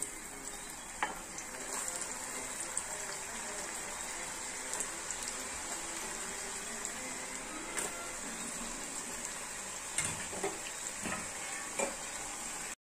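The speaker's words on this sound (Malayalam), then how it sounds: "ഇനി ഇതും കൂടി നമുക്ക് ഈ ഓയിലിലേക്ക് ഇട്ടിട്ട് ഫ്രൈ ചെയ്തെടുക്കാം." Banana pieces fry in hot oil with a soft, constant sizzle, punctuated by occasional clinks and stirring scrapes, fairly quiet and close.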